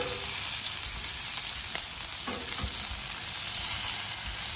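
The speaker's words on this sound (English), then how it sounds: "Everything's getting browned up nice. The sausage is just about done." Sausage links browning on a Blackstone griddle alongside bacon, a steady close hiss of frying fat with occasional pops and scrapes, no voices.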